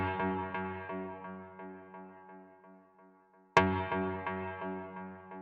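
A synthesized stab from a Polegroup-style techno track rings out as a sustained, decaying tonal chord, then a single sharp new stab strikes partway through and fades again, alone with no talk.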